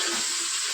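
Vegetables such as carrot, beans, peas and capsicum frying in a pan for paneer pulao give a steady, soft sizzle that stays even and close for under a second, with no talking.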